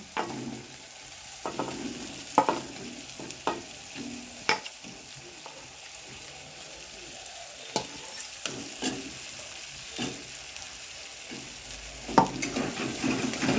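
Potatoes stir-fried in spice masala in a kadai, a steady close sizzle broken by repeated scraping and knocking of a spatula against the pan in an uneven rhythm, with no talking.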